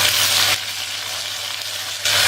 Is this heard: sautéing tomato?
yes